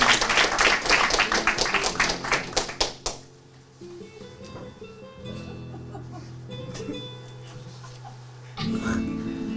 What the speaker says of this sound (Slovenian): Tako da prosimo za en aplavz.